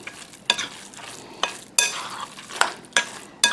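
Spoon or spatula stirring ground meat mixed with cauliflower rice filler in a pan for stuffed cabbage, with a few sharp scraping strokes over a soft sizzle.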